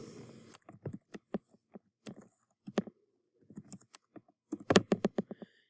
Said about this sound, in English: I'm just going to type this whole thing in.